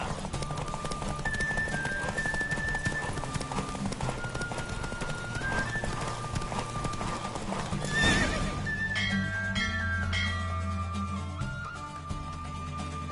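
Horse galloping in The Witcher 3 game, steady hoofbeats under a loud orchestral music score, with a whinny near the end and no talk.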